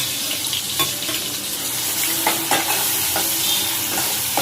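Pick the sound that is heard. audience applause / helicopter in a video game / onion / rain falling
onion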